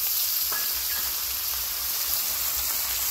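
Chopped onion fries in hot oil in a village kitchen, a loud, dense, continuous hiss with no distinct pops or voices.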